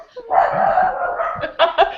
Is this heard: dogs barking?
yes